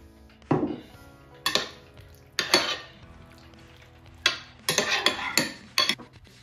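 A spoon clinks and scrapes in a bowl while honey and soy sauce are stirred together, several short, separate bursts of clatter with quiet gaps between them and no voices.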